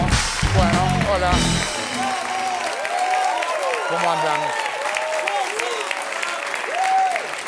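A television studio audience breaks into loud applause and cheering at the start of a current-affairs show. The clapping fades as a voice greets the crowd, and scattered claps continue under his talk.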